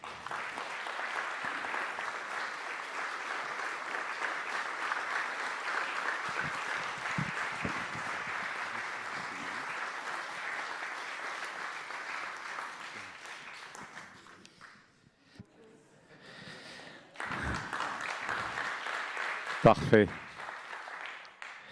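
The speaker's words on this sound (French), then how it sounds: "merci d'accueillir et d'applaudir Barbara Hendricks" Sustained audience applause welcoming Barbara Hendricks at a public debate, a steady broad wash of clapping for about fourteen seconds that fades, then resumes briefly with a voice speaking over it.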